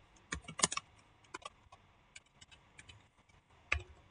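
Fast, quiet clicking keystrokes come from a computer keyboard while typing text in MS Word, in irregular bursts with short pauses and a sharper tap near the end.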